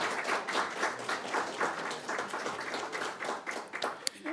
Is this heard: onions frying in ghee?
no